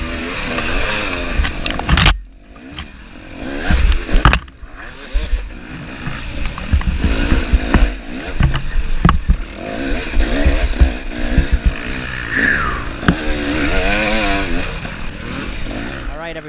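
Dirt bikes race through a muddy harescramble course in heavy traffic, engines revving loud and close with sharp bursts and drops, under continuous talk.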